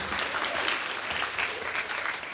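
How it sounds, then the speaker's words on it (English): An audience at a high school comedy hypnosis show gives a continuous, lively round of applause, close and fairly loud, with no talking over it. "Give her a big round of applause."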